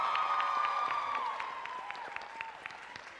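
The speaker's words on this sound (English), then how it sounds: "Please give them a round of applause." An audience at a championship event applauds committee members, a soft round of scattered clapping that thins out toward the end, fairly distant and quiet.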